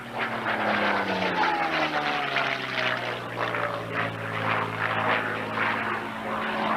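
A P-51 Mustang propeller fighter makes a loud, sustained photo pass at a 1990 Atlantic City air show, its engine drone steady and close with a slowly falling pitch as it sweeps by.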